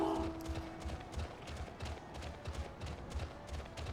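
A bear mount runs in the video game Final Fantasy XIV, giving a steady, rhythmic gallop of soft footfalls at moderate volume under quiet background game ambience.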